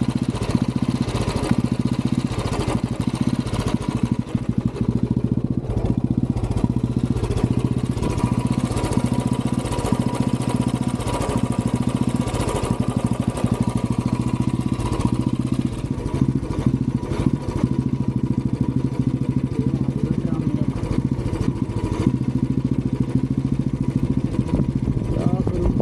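Royal Enfield Bullet motorcycle engine running at a showroom service, a loud steady thumping idle with a continuous low rumble throughout, the bike noted for an auto-acceleration problem.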